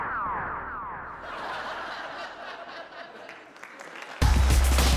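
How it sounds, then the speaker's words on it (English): A stock crowd effect of cheering and laughing, a steady wash of audience laughter and chatter at moderate level, ending with a sudden loud burst. "this laughter is replaced with what I think is just stock sound effects of a crowd cheering and laughing"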